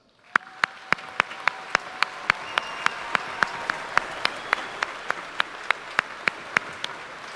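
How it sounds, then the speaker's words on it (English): Graduation audience applauding the Whitman Hanson class of 2018, a wide, steady wash of clapping rising quickly, punctuated by sharp, regular loud claps near the microphone roughly every third of a second. "Members of the audience, please join me with applause to recognize the accomplishments of this wonderful class"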